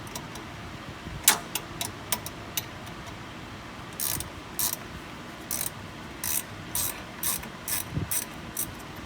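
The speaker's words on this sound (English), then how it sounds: "The last thing I gotta do is pull the nut off the bottom of the ball joint itself." A hand ratchet removes the 18 mm nut from a ball joint on a C5 Corvette, with quick bursts of close, crisp clicking in short, uneven strokes and pauses between them.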